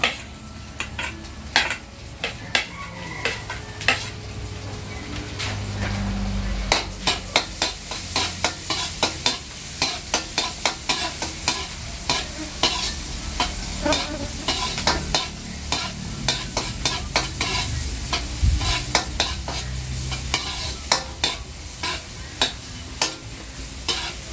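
Garlic frying in a pan and stirred steadily, with a continuous sizzle under frequent sharp scrapes and clinks of a utensil against the pan, close and loud throughout.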